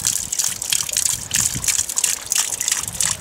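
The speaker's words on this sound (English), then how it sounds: "But that sound is overflow on the rain barrels." Rainwater gushes and splashes as it overflows from rain barrels during a desert rainstorm in Arizona, a steady close-up rushing and spattering of water with no voices.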